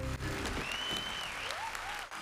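Applause sounds in the video game Secret of the Mimic, a steady, moderately quiet patter of clapping lasting a couple of seconds, with a faint whistling tone rising and falling over it.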